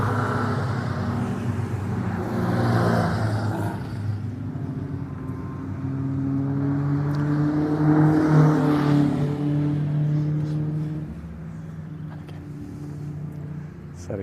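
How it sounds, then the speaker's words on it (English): Historic 750 Motor Club racing cars rumble past on a formation lap at Mallory Park, a steady layered engine drone that swells and fades as the pack moves around the short circuit, loud and continuous. "So the cars just coming around for their formation lap."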